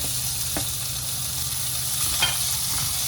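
Finely chopped tomatoes being stirred and fried with browned onions, a steady close sizzle under a few scraping stirs of a spoon.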